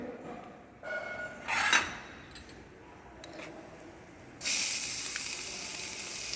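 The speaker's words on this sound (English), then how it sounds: "Okay, the pan is hot now. We'll add little chopped garlic to it." Chopped garlic dropped into a hot pan of oil for chicken fajitas, a bright sizzle that flares up in bursts, then settles into a loud, steady frying hiss near the end.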